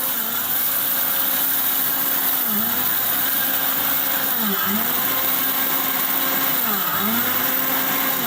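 A Panasonic blender grinds gram flour with a loud, steady motor whine that stays close and continuous. The pitch dips and recovers in sweeps roughly every two seconds as the load shifts, and no voices break in.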